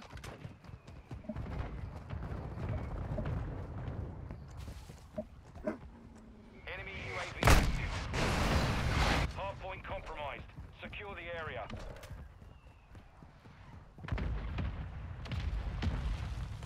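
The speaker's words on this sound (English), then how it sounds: "Hostile mortar strike near your position." Mortar strikes land in a Call of Duty: Modern Warfare II multiplayer match, a few loud booming impacts amid gunfire and battlefield noise, with people talking over them.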